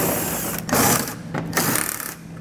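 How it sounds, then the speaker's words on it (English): A ratchet with a 10mm socket backing out bumper screws under a 2022 BMW X7, close and loud, with quick bursts of rapid clicking broken by brief pauses. "We'll remove those using a 10mm socket."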